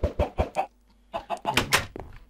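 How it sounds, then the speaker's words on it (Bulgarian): Chickens clucking in the Minecraft video game, a string of short, punchy clucks in quick bursts, a pause, then a denser cluster of louder clucks, close and clear with no speech. "Още малко кокошки."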